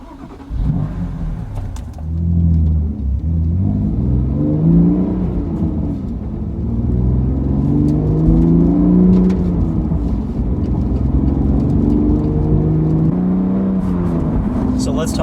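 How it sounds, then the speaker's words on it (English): A 2020 BMW M2 Competition with the S55 engine starts and pulls away: a loud, steady mid-range engine note with revving swells, under some talk. "So let's fire it up and take it for a drive."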